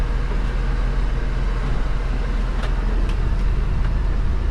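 A huge vehicle drives along small public roads, giving a dense, steady low rumble and road roar throughout with a few faint higher clicks.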